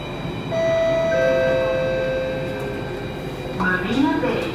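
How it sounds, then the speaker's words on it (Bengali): A driverless metro train in Singapore runs with a low rumble under steady electric motor whines and tones that rise and shift toward the end, while a voice is faintly heard. "ড্রাইভার ছাড়া ট্রেন"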